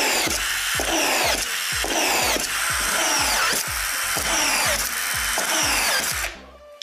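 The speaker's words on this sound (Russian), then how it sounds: "давайте дальше верстак закручивать саморезы. То есть включаем шуруповерт" A cordless screwdriver drives self-tapping screws into a wooden workbench, giving a loud close buzzing whir with about a dozen rhythmic pulsing bursts before cutting off abruptly.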